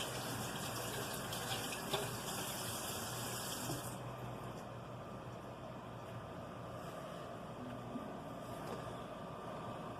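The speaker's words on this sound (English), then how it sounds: "Let me wash my hand off right quick." A kitchen tap runs steadily as hands are washed under it while cooking homemade seafood gumbo, a continuous hiss of water that shifts slightly partway through.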